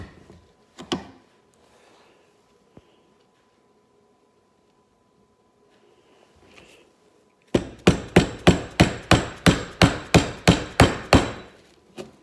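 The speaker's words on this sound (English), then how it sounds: "Just needs the mallet to do that initially" A wooden mallet strikes a chisel in a quick, even run of about a dozen sharp, close knocks while shaving wood by hand, after a few scattered faint bumps and quiet.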